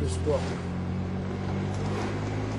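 A BMW 633 CSI's engine drones steadily from inside the cabin while driving, a low resonant hum with exhaust note carrying through the body, heard continuously under someone speaking.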